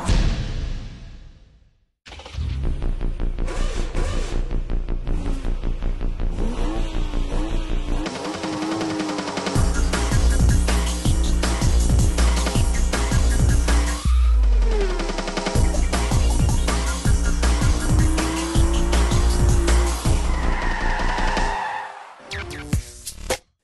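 A BMW Z4 competition race car laps the Castellet circuit. Its engine drones loud and close with rising and falling revs through gear changes, and there is a brief lift-off midway.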